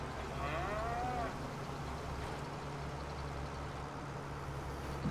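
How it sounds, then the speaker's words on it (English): Cattle low in the farming video game Farming Simulator 25, a single drawn-out moo near the start over a steady engine and machinery drone that runs throughout. "Is that a baby cow over there?"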